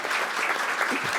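An audience applauds at a panel event, a dense and even wash of clapping that holds at a steady level throughout.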